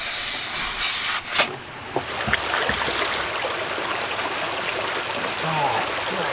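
Water pours from a spring along a trail, making a steady, close, broad rushing hiss. Brief voices and small handling sounds come through over the flow.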